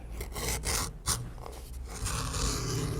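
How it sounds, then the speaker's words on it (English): A leather back connector strap for saddle-tack chaps gets its edges beveled, heard as close, repeated raspy scraping strokes, each a short rough shave, in an uneven rhythm. "For the back connector strap, I will edge bevel both the top edge"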